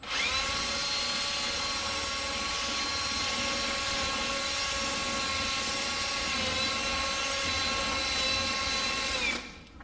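A power drill spinning a hub cleaning tool on a wheel stud whirs steadily at high speed for several seconds at close range, then cuts off abruptly.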